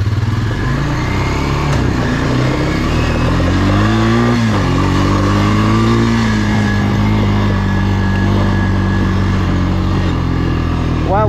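A Honda engine running steadily during a ride, its low drone rising and falling with engine speed, loud and close throughout, with a voice talking over it.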